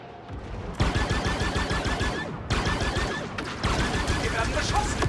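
Rapid bursts of blaster-style gunfire in the video game Star Wars Outlaws, dense and loud in overlapping volleys, with a brief drop in the middle and game sounds layered throughout.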